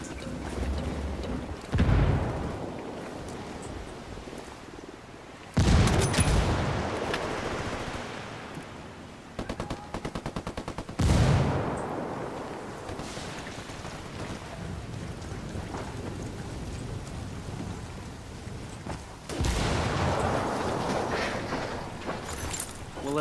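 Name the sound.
grenade explosion and gunfire in video game Ghost Recon Wildlands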